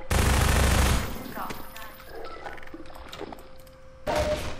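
Machine gun fire in the video game Half-Life 2, with a loud sustained burst of rapid shots, then quieter game sounds and scattered impacts, before another short burst at the end.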